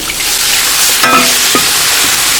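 Mineral water hits a hot wok of fried chopped chili and erupts into a loud, steady sizzling hiss that fills the whole moment, with faint scraping of stirring.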